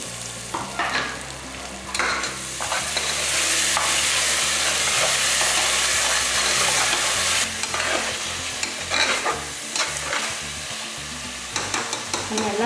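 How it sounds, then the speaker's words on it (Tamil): Ground paste of green chilli, coriander and mint sautéing in a pan for mutton pulao, a loud steady sizzle with scraping stir strokes that swells mid-way and settles again, no voices. "இந்த விழுதையும் இதிலே சேர்த்து நல்லா வதக்கிடலாம்."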